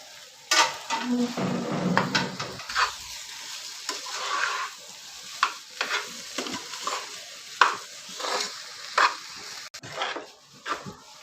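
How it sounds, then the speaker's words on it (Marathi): Boiled potatoes tossed into oiled pan for Marathi-style potato bhaji, then stirred with a utensil, producing soft sizzling and repeated scraping and clinking strokes, fairly quiet and close. "आता मी त्यात बटाटा टाकते"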